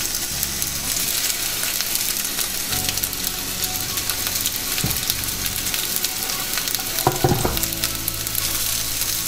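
Chopped vegetables frying in a little olive oil in a pan, with a dense, loud, continuous crackling sizzle and a few utensil knocks from stirring.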